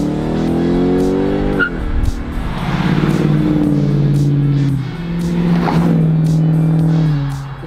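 Ford Mustang Mach-1 V8 engine while driving, a loud, close drone that climbs in pitch through the gears, with shifts breaking the rise and the revs building again, heard alone without talk.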